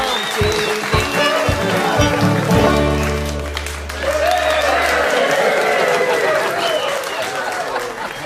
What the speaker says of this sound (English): Let's practice the clapping.